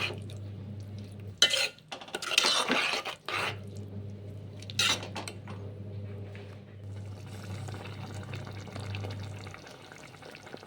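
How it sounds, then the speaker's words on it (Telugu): A utensil scrapes and clanks against a pan as tomato pieces are stirred for egg tomato curry, several bursts of scraping and knocking over a low steady hum, then quieter sizzling. "మొత్తం మిక్స్ చేసి టమాటా ముక్కలను ఉడికించుకోండి."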